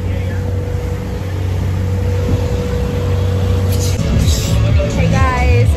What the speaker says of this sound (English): driving the boat.